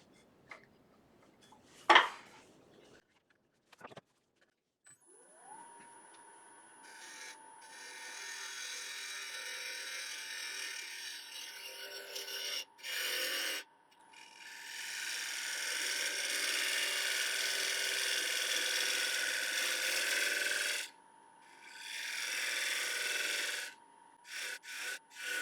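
A woodturning lathe shapes a live-edge mulberry wood bowl, a steady whirring spin with a tool scraping and rasping against the turning wood in long continuous passes broken by short pauses, close and fairly quiet, with no talk.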